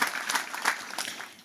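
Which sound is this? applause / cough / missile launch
applause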